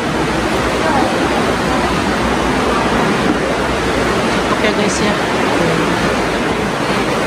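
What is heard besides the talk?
water flowing like a river inside Marakoopa Cave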